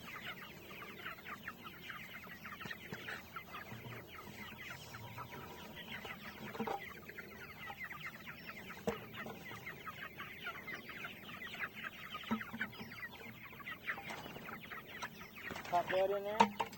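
Young chickens about four weeks old cluck softly and continuously while foraging outdoors, a steady low chatter of overlapping calls with a few louder peeps near the end.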